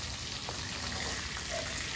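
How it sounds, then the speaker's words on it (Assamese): Rohu fish frying in a pan, made as part of a Bhogali Bihu meal, gives a steady, dense sizzle that runs unbroken and fairly loud, with no talking over it. "পাপা মাছ ভাজি আছে"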